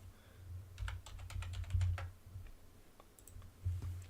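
Typing on a computer keyboard, a quick run of soft, close key clicks in a quiet room, alone without speech.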